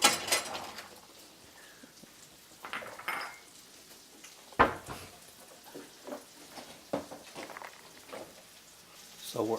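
Dishes, pots and cutlery clatter in a home kitchen while shrimp cooks, with irregular clinks and knocks spread across the clip and a faint sizzle underneath.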